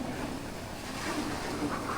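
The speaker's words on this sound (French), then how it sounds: "le vent." Wind gusts at the seashore, a broad, blustery rush buffeting close by, mixed with the wash of waves, steady and moderately loud.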